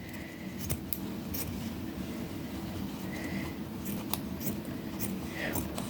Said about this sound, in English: It's always a little tougher to cut through the seams.